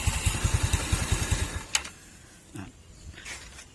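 A Yamaha Mio scooter engine putters close by in a quick, even pulsing rhythm for about a second and a half, then is switched off and falls silent, leaving a few faint clicks and small handling noises.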